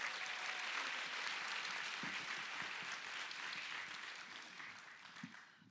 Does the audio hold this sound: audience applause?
yes